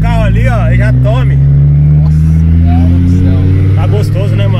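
A turbocharged five-cylinder Fiat Marea Turbo drones loudly and steadily from inside the car while cruising, its deep engine note rising and falling, with talk over it throughout.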